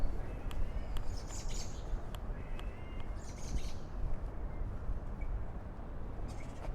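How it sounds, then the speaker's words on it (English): Small birds chirp faintly in short, scattered calls above a steady, rumbling wash of city noise in an Astoria park along Ditmars Boulevard, New York. "There's some birds there"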